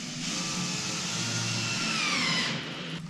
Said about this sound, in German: Jetzt hole ich mir einfach eben den Akkuschrauber und mache den hier mit den 4 Schrauben fest.